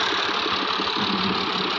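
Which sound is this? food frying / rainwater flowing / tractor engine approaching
tractor engine approaching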